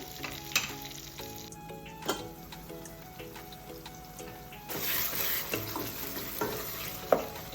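Tomatoes and turmeric fry in a pan for brinjal poriyal, a close crackling sizzle punctuated by sharp spoon taps and scrapes, growing louder and busier in the second half, with no speech.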